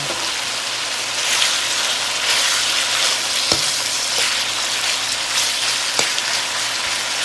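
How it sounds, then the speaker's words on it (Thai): Garlic oil frying in a pan, a steady loud sizzle with a constant crackling hiss throughout and a couple of sharp clicks, with no talking. "น้ำมันกระเทียมเจียวลงไปพร้อมกับกับกระเทียมเจียวสองครั้งมันหอม"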